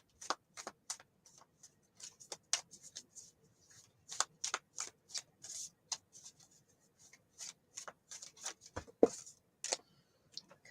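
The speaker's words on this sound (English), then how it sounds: "Okay, I'm just trying to shuffle the cards." Tarot cards being shuffled by hand, a series of quiet, close, irregular riffles and slaps in short bursts separated by pauses, with no voices.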